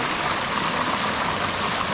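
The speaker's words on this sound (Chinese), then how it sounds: "加埋呢度啲咁好聽嘅流水聲" Water rushes steadily in a mountain stream at Tai Shing Stream in Hong Kong, a dense, continuous close-up wash of flowing water with no voices.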